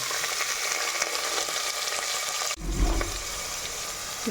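Three sliced onions sizzle steadily in hot oil for a chicken curry with gongura leaves, a dense continuous frying hiss with a brief low stirring rumble partway through.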